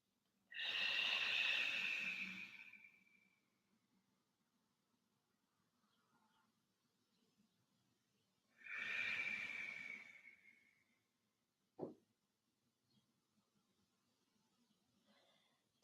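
Two slow, long breaths, each a drawn-out airy exhale lasting a couple of seconds, with a long quiet pause between and a small click afterward, near and soft, with no speech.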